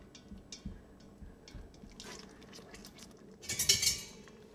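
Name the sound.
stirring BBQ ribs sauce in an Instant Pot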